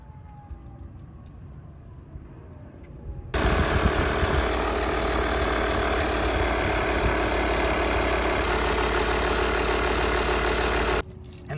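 An electric pump inflates a yoga ball with air, starting abruptly after a quiet stretch and running as a loud, steady motorized whir for about eight seconds before cutting off.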